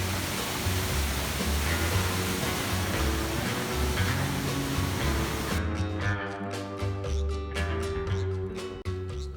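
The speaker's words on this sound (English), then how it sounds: "We then headed to the very popular Hanging Lake Trail, which had gorgeous coloured water and lots of waterfalls around it." Waterfalls at Hanging Lake Trail in Colorado produce a steady, full rushing roar of falling water, loud and continuous, shifting partway through to a thinner splash with sharp intermittent bursts.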